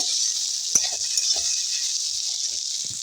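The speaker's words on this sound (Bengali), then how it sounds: "আদাটা আমি ভালো করে ভেজে নেব" Ginger paste frying in oil, a steady hissing sizzle, close and fairly loud, with a few soft taps and scrapes of stirring over it.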